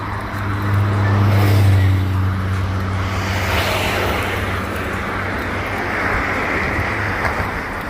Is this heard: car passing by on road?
yes